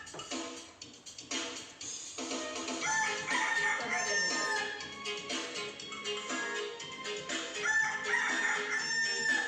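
A rooster crows repeatedly, its drawn-out calls rising and falling at moderate distance over a quiet background, with no talk.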